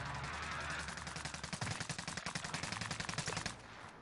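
Rapid automatic gunfire from a military shooter video game, a dense burst of repeated shots growing sharper and more rhythmic before cutting off near the end.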